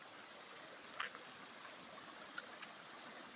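Cold, clean stream water flows steadily at an outdoor bathing spot, a soft continuous rushing wash with a couple of faint splashes and no voices.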